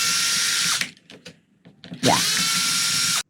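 A power drill unscrews the AC and hazard buttons from a Toyota Hilux dashboard in two loud, whirring bursts close by, separated by a brief pause with small clicks and a soft spoken word.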